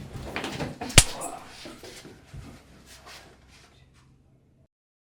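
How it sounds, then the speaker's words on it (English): A door closes with one sharp knock near the start, set amid voices and shuffling that fade out into silence. "Cassandra, close the door."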